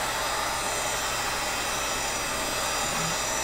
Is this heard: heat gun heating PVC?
yes